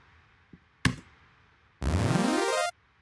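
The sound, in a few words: dry square wave synth without effects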